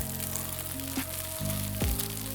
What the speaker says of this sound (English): now we're gonna add our beef. Let me break this up.